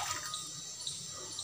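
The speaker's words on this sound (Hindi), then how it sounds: "तो दो कप पानी डालना है।" Water being poured from a cup into a pan on a gas stove for boiling sweet corn, a steady splashing trickle heard close up without talk.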